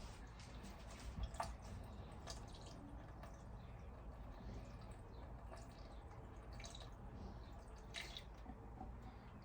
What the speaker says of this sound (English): You want to fill it up pretty slow because it will overflow and pour out everywhere and make a mess.